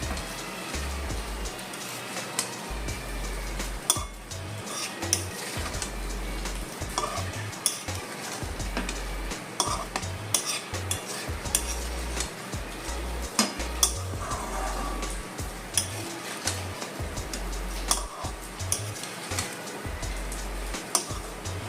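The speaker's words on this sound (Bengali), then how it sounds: "এটাকেও একসঙ্গে এবার একটু নাড়াচাড়া করে মিশিয়ে নেব সব কিছু" Broken wheat and lentils stirred together in a pan, with a continuous close scrape and rustle broken by regular clinks of a spoon against the metal.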